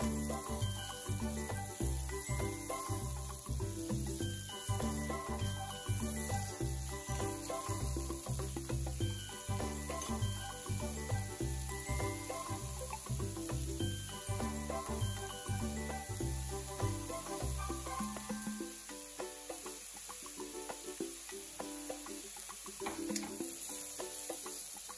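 Chopped onions fry for momo filling in a continuous close sizzle and hiss that runs steadily throughout, with a low hum underneath that drops away near the end.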